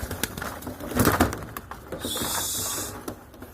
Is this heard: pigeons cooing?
yes